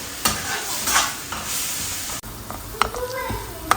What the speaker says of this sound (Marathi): आता कांदा टोमॅटो छान नरम होईपर्यंत आपल्याला परतून घ्यायचं आहे